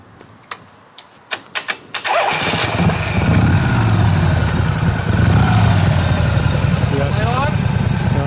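A 1970 Harley-Davidson FLH with original paint is kicked over with a few sharp mechanical clunks, then fires and settles into a loud, steady, throbbing idle close by. A voice can be heard over the engine.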